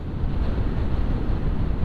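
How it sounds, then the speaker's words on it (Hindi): Steady, heavy wind from a sudden weather change with incoming clouds rushes and buffets against the microphone with a dense low roar and no pauses. "अभी अचानक से मौसम में बदलाव हो गया, बादल आ गए, तेज़ हवा आ गई।"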